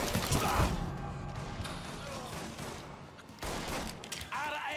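Gunfire in Mafia III: Definitive Edition, heard as a loud opening burst of shots, then mechanical clatter and scattered impacts under shouting voices as a firefight runs on.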